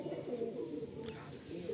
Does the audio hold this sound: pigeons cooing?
yes